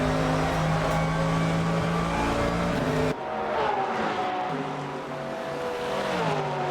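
Race cars in the video game Le Mans Ultimate drag race down the start-finish straight, engines holding steady high-pitched notes close by, then shifting up and rising in pitch, loud and continuous.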